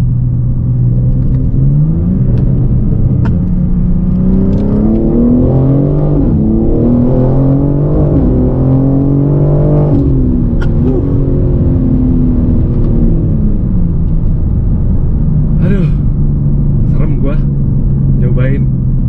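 A BMW M4 Competition engine revs and accelerates through rising and falling gear pitches, a loud continuous interior drone with occasional voices over it.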